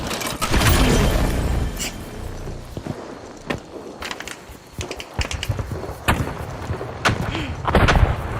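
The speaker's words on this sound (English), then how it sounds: "Sending a rocket!" A rocket launches in The Finals amid game combat, with sharp explosive cracks and booms over a noisy mechanical bed. Several distinct blasts are spaced across the span, and a voice calls out briefly.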